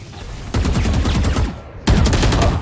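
Valorant gunfire erupts in two loud, close bursts of rapid automatic shots, each a dense stream of repeated cracks, with a short lull between them.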